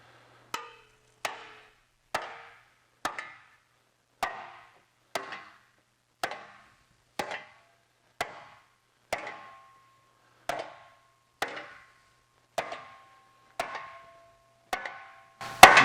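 Hammer blows on 19 gauge steel sheet for a motorcycle fender ring out one at a time at a steady pace, about fifteen sharp metallic strikes with short decays, the last few coming quicker.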